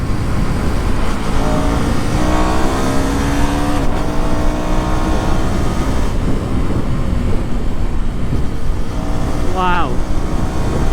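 Husqvarna Vitpilen 250 cafe-racer motorcycle engine running continuously and loud throughout, with a rising rev sweep near the end and a rider's voice over it.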